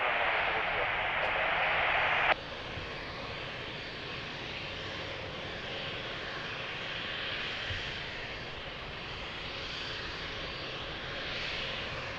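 An airplane roars as it lands at Lisbon Airport on runway 02, a loud, steady engine rush with a brief radio-like tone at the start, heard close and continuous.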